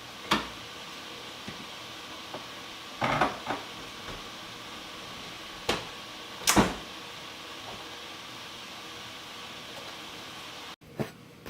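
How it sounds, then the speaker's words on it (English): A dish of eggplant parmesan goes into a kitchen oven, marked by scattered sharp clicks and clunks of tray and door against quiet room noise, ending in one louder knock. "Now I'm going to pop this baby in the oven for about 10 to 15 minutes"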